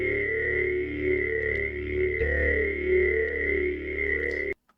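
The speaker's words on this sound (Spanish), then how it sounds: "Ese efecto lo hice intencionalmente para que se sintiera ese movimiento izquierda-derecha." A synthesizer in a progressive orchestral mix, deliberately panned left and right, gives a sustained distorted tone with a slow wavering movement, which cuts off abruptly at the end.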